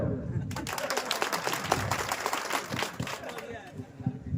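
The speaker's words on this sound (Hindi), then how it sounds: "अब ताली बजाओ" An audience at a live comedy show claps in a brisk, uneven burst, the hand claps close and prominent, with voices mixed in.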